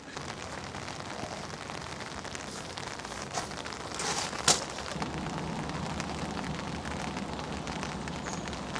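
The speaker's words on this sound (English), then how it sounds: "Just endless rain, or in the northeast of England at least" Steady rain falls on a garden in north-east England in August, a dense continuous hiss of drops with a few louder close splats, no voices.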